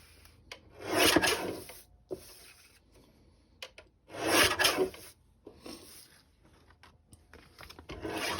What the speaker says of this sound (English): Now we'll trim up the Rocket League one as well.